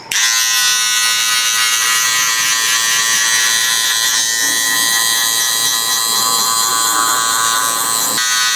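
Electric hair clipper buzzes steadily and loudly while cutting a spaced, multi-tone fade haircut, a continuous close whine running unbroken for the whole stretch with no talking.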